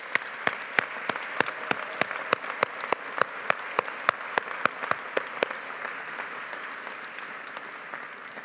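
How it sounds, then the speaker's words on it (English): Applause from a graduation ceremony audience, with sharp, loud individual claps standing out in a steady rhythm over a softer bed of clapping that thins toward the end. "take a moment to acknowledge and applaud family and friends for the support"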